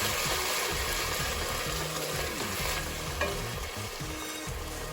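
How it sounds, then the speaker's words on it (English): A jar of sauce stirred through in a hot pan on lowered heat for vegetable lasagna, with steady close sizzling and frying and the scrape and slosh of a spoon moving through it, no speech. "I'm going to turn that heat down a touch, stir that through."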